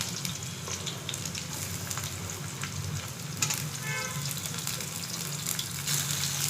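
Onions sizzling in a little oil in a pan at home: a soft, continuous frying crackle with faint stirring, heard alone.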